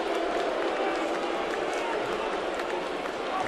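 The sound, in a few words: baseball stadium crowd reacting to batter's name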